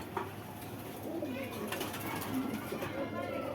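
Pakistani Giribaz pigeons coo softly in a loft, their low burbling calls half buried under someone talking steadily throughout.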